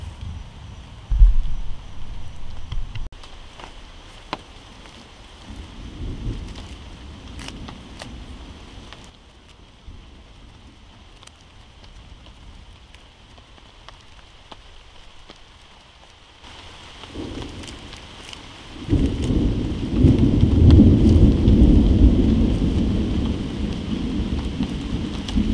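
Steady rain falls outdoors at an overnight campsite as a storm front moves in, with low thunder rumbling through and a louder, heavier downpour with thunder near the end; no voices.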